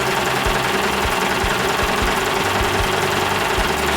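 Domestic sewing machine stitching along a crocheted lace edge at low speed setting, a steady close mechanical whir with rapid rhythmic needle thumps running continuously.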